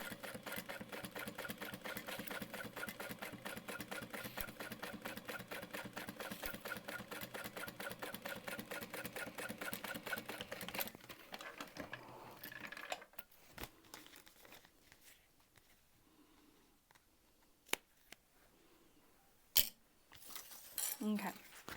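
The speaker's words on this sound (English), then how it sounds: "we're gonna just top stitch across the top edge of that" A sewing machine top stitches across the top edge of a crossbody bag in a steady, rapid run of stitches for about eleven seconds, then stops, leaving quiet handling rustles and a few sharp clicks.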